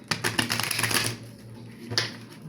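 Crisp rapid riffling and clicking of tarot cards being shuffled, a dense burst followed by a couple of quieter flicks, close up with no talking.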